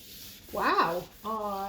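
A hand rubs a fridge surface with WD40 along the grain, giving a scuffing rub that rises and falls, followed by a steadier smooth squeaky stroke.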